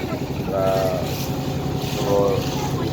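A boat's engine drones steadily across the water of a flooded haor wetland, with a low rumble throughout and faint voices murmuring underneath.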